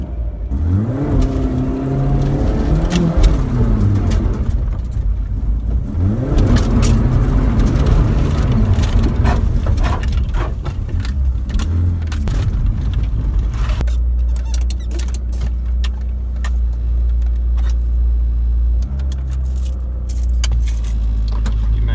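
A car engine keeps running steadily at close range with no key in the ignition, while a bunch of keys jangles loudly over the continuous hum for much of the stretch.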